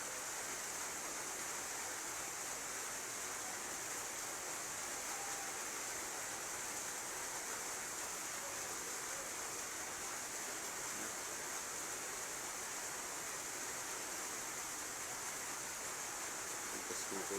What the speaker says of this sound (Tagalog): Kita niyo, ang lakas sa tumutulo.